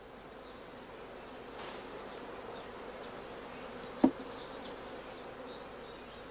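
Honeybees drone steadily around an opened hive while queens are being raised, a soft continuous buzz close by with one brief sharp knock partway through.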